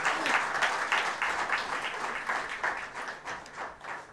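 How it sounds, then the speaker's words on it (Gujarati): An audience at a literary event on poet Manoj Khanderiya breaks into applause, brisk clapping from many people that rises and slowly thins over several seconds. "આપણે સૌ તાળીથી એમને બતાવીએ"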